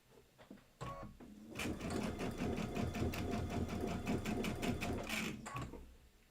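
A sewing machine fitted with a compact walking foot pieces fabric, starting after a few soft clicks and running in a fast, steady, close stitching rattle for about four seconds before stopping.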